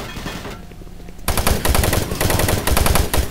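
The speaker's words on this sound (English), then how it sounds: "the assault rifle totally decimates the marine troops" Rapid assault rifle fire in the video game Doom 3 rattles loud and continuous in a dense burst, following a quieter stretch of game sound.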